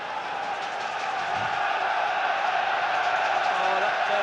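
Football crowd of Bruges supporters at an FC Brugge versus Rangers match, a steady, dense roar of many voices filling the stadium throughout, loud and continuous with no clear peaks.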